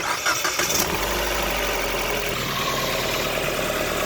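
A Ford Fiesta engine cranks and catches just after an oil change, then settles into a steady idle, close and fairly loud with no talk.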